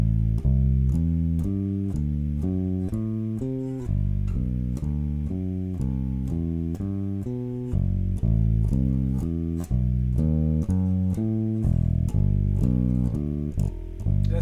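A steady walking bass line on bass guitar stepping through chord tones in even quarter notes, with a light ticking beat above it and no voices.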